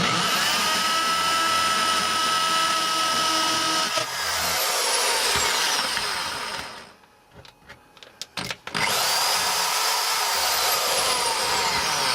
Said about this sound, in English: I want to put in some clearance holes just down through there so I don't damage any of the buildings on the way in with this heavy drill